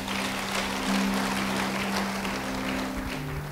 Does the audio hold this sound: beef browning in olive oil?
no